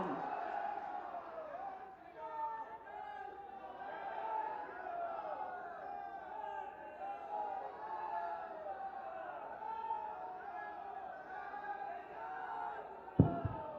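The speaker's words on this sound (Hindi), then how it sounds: "एक बार जोरदार तालियों के साथ अभिनंदन वंदन स्वागत।" A large crowd at a public event in Ayodhya, an inauguration of development projects, cheers and shouts continuously. A dense, sustained roar of many voices with scattered whoops runs throughout, and a sharp thump comes near the end.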